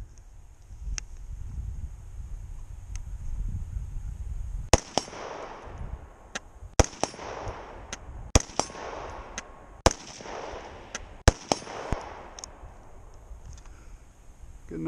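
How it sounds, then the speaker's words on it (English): Rifle shots ring out at an outdoor shooting range as a string of sharp, loud cracks spaced a second or two apart, each followed by a brief echo, with faint wind and rustling between them. "See if the rifle is zeroed."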